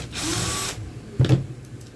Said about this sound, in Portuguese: Vamos retirar esse parafuso aqui.